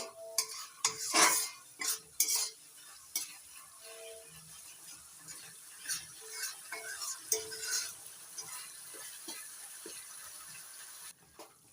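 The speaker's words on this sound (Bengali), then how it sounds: "কিশমিশ দিয়ে নাড়াচাড়া করে নিয়ে" A spoon stirs raisins through a vegetarian pointed gourd korma curry in a pan, giving repeated scraping clinks and soft sizzling at close range, with no talking.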